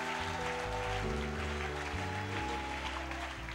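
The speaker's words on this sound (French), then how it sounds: "Est-ce que quelqu'un peut donner des acclamations à Jésus?" A church congregation claps and cheers for Jesus, a dense continuous wave of applause filling the room with a musical tone sustained underneath.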